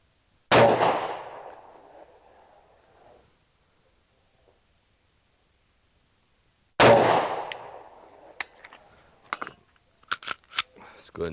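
Two sharp, loud Sig Sauer P365 pistol shots at an outdoor range on a foggy morning, spaced several seconds apart, each with a fading echo, followed by quieter clicks and handling noises.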